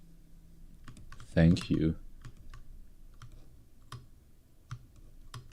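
Computer keyboard typing, with scattered soft key clicks and taps at an uneven pace, close and quiet, broken by a brief spoken phrase.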